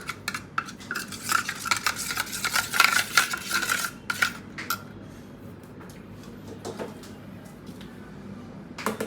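A spoon stirs a chicken pulao mixture seasoned with salt in a home kitchen pot. It makes repeated close scraping and clinking strokes against the metal, busiest in the first few seconds and then softer and more scattered.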